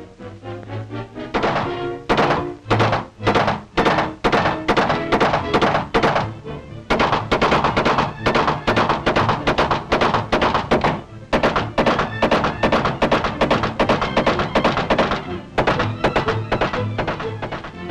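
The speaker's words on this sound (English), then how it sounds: "Intermittent firing." Tommy gun fire on a rifle range, intermittent bursts of rapid sharp reports, loud and close, with short pauses between strings of shots.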